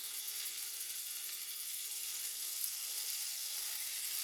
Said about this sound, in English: you're basting them with the butter sauce